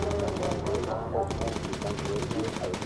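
Rapid machine-gun bursts rattle from an RAF Lancaster's guns in the video game Bomber Crew, dense rhythmic firing with a brief gap near the middle, and voices can be heard faintly alongside.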